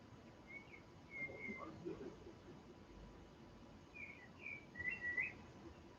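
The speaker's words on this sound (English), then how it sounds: "Listen to the birds." Birds chirp and whistle in short, faint bursts as a thunderstorm fades in Holland. The calls come in a few separate phrases over a quiet, hushed background, with a louder warbling cluster near the end.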